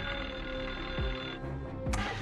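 A telephone rings with a continuous electronic tone, loud and close, while dull thumps and clatter sound beneath it.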